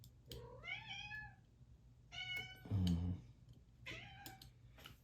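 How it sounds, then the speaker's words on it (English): An unhappy cat meows repeatedly indoors near a wood-carving workspace, with several drawn-out, rising-and-falling cries spread across the clip, fairly close, alongside a brief low rumbling thud in the middle. "Kitty back there, not happy."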